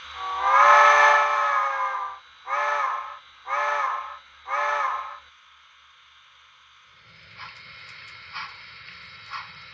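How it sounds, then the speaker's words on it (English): Steam locomotive whistle on an HO scale model railroad, one long blast followed by three short toots, then quiet, with faint clicks of trackside mechanism afterward. "Time to whistle out our flagman at Prospect."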